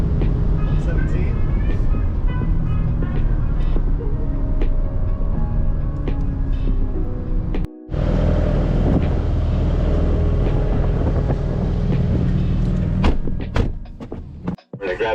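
Inside a Porsche braking early and rolling into the pit lane on a track, a steady, close engine drone hums with a low rumble and a brief dip in the middle.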